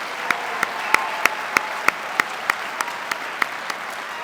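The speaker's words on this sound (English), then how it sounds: "Can we give all the students one final round of applause?" A crowd applauds continuously at a student awards ceremony while a steady, rhythmic clap cuts through the wash of hands at a brisk, even beat.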